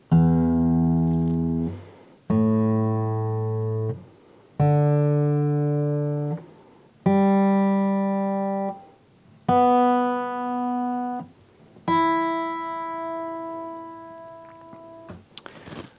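Six acoustic guitar strings plucked one at a time, each open note ringing out for about two seconds before the next, clear and close.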